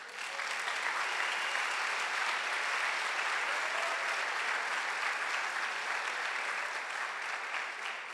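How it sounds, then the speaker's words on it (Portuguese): A church congregation applauds in a steady, dense wash of clapping that holds evenly for several seconds, loud and full with no voices above it. "E dê um aplauso para Ele."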